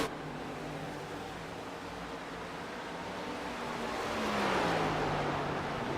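Racing video-game car noise at Indianapolis hums as a steady, noisy engine drone that swells slightly and lifts toward the end, with no clear cut-off heard and no voices.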